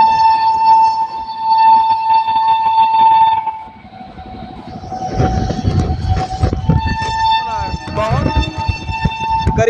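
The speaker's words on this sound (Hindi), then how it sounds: "गरीब रथ एक्सप्रेस बहुत ही जबरदस्त क्रॉसिंग होने वाला, बहुत ही ताबड़तोड़ क्रॉसिंग गरीब रथ के साथ हमारी अमृत भारत का।" The Garib Rath Express on the Anand Vihar–Jaynagar route crosses an Amrit Bharat train. A loud, steady horn blares for several seconds, then a heavy clattering rumble of the passing train follows, with further horn blasts.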